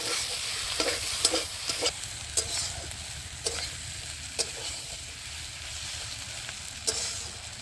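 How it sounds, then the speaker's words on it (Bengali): A spoon stirs a crab and Malabar spinach curry in a hot pan, with a steady sizzle beneath a series of sharp scraping clinks scattered across the clip, close up and with no talking. "এবার আমি আরেকটু নেড়ে চেড়ে নামিয়ে নেবো"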